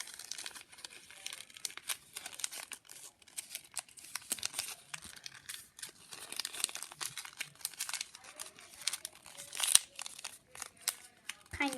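Sheet of paper folded in half and creased while making an origami torpedo boat, a steady run of close crinkles and crisp rustles with a few sharper snaps, and a voice speaking now and then.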